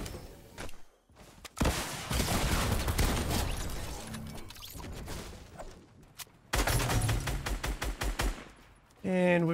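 Pump shotgun blasts and other gunfire in a competitive battle royale video game, loud, close bursts of shots broken by short pauses, with a rapid rattling sequence near the end.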